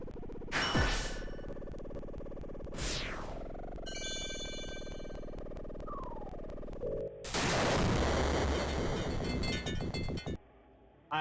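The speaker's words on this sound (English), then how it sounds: "I love how they animated the explosion." Cartoonish video game explosion with squash-and-stretch animation, heard as a loud broadband burst of crackling debris after earlier whooshes, chimes and a steady tone, then cutting off abruptly.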